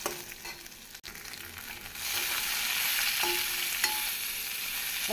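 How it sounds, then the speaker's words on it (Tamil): Chopped cabbage goes into a pan with chilli and curry leaves for Tamil cabbage chutney; a steady loud sizzle of frying swells after it drops in, with scraping stir strokes against the pan throughout. "இந்த சமயம் நாம் நறுக்கிய முட்டைகோஸை சேர்த்து விடலாம்."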